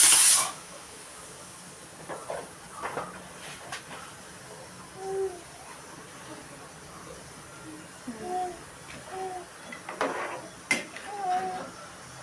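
A pot of chicken curry simmers with a soft, steady hiss and occasional bubbling, while a person talks intermittently nearby and a utensil clinks now and then.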